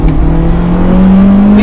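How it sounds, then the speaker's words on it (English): A Honda Integra Type R engine held at high revs, with a Fujitsubo RM01A exhaust giving a loud, steady deep growl rising slightly in pitch, close by. "the exhaust itself, the Fujitsu RM01A, as expected, gives a nice deep growl, but is not loud at all"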